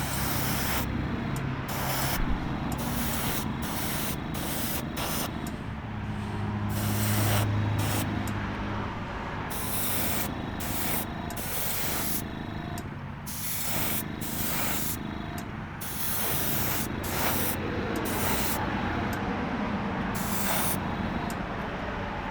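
Spray paint hisses in repeated short and long bursts as wet coats go onto a custom Jada toy truck, close and fairly loud, with brief pauses between passes.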